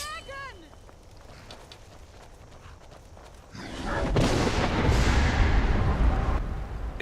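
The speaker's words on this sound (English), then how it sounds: "A dragon attacked the fort, helping me escape." In Skyrim, a dragon attacks a fort: heavy rumbling and roaring blasts swell to a loud, sustained crash of destruction, with a voice heard in the quieter opening.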